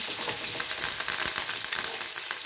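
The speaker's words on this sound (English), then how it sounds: "So now I'm going to fry all my things" Steady loud sizzling of chilies, thyme and spices frying in a hot pan, crackling continuously, close and with no talking.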